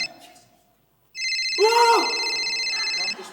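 A telephone rings with a steady, bright electronic trill lasting about two seconds, close and clear, after a brief murmur at the start.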